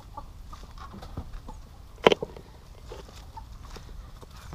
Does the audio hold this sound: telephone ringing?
no